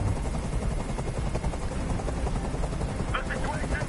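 A helicopter hovers overhead in the video game Detroit: Become Human, its steady rotor drone filling the scene under tense background voices.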